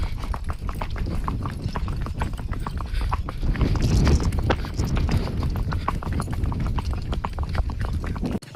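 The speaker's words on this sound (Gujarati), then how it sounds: "ઘોડી ધીરે ધીરે હાલી જાય" A mare's hooves clip-clop in a fast, steady rhythm on a hard surface, close and continuous over a rumbling background.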